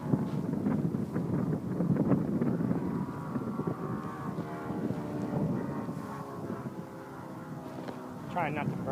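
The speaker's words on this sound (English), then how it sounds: "the wind's dying down a little bit right now" Gusty wind buffets the microphone outdoors while a Skyline Sbach 60-inch model plane is flown, making a steady broadband rushing that rises and falls throughout, with a person talking over it.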